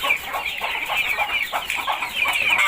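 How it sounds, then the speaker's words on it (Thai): Several chickens cluck continuously close by, a busy overlapping chatter of fowl with no talking. "เดี๋ยวให้อาหารไก่กันนะครับ"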